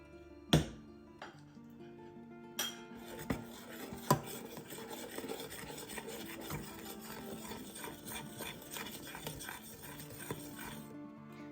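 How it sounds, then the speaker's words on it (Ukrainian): Honey gingerbread dough is worked by hand with butter in a bowl, giving soft continuous rubbing and scraping with a few sharper knocks early on, all quiet and close. "Додати вершкове масло та знову вимішати."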